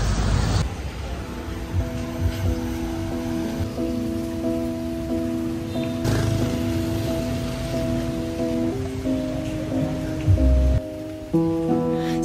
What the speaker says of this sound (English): Now I realize it was raining so hard.